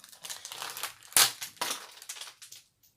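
A toy package is ripped open during an unboxing, with plastic crinkling and crushing in irregular close bursts and one sharp loud crackle midway before it fades.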